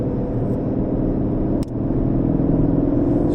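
An Aston Martin Vantage race car engine hums steadily up close on the Silverstone circuit, rising slightly in pitch as it gains speed, with a brief click partway through.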